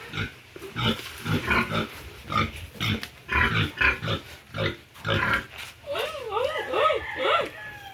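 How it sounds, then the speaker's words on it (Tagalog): Large pig on a farm grunting and oinking in a rapid series of close, rough snorts, with people talking and chuckling over it and a few squeals near the end. "Ang laki ng baboy."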